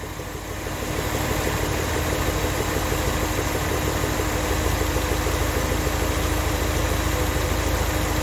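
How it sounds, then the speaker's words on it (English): A car engine idles steadily as the idle speed is raised slightly during a tune-up, a close, continuous low rumble with a faint hum that grows a little louder after the first second. "I'm going to increase the idle speed a fraction."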